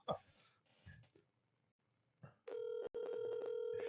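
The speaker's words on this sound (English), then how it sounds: "Can you hear the phone line ringing?" Telephone line ringing back in a repeating ringback tone, steady and fairly loud after a stretch of quiet background noise and faint voices.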